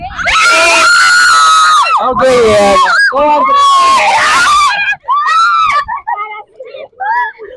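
A crowd screams loudly in long sustained bursts, with short gaps and a few shorter yells toward the end; a voice speaks briefly.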